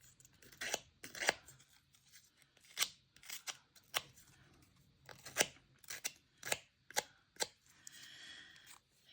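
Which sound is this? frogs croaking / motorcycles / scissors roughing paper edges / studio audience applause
scissors roughing paper edges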